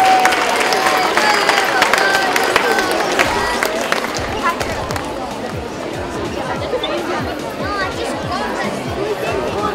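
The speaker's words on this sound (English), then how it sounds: "can we have a big round of applause for the primary pupils?" Audience at a high school STEM fair applauding primary pupils, a steady wash of clapping and crowd chatter filling the room throughout, dense and continuous rather than sharp individual claps.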